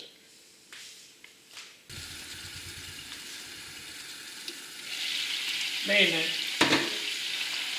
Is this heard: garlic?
yes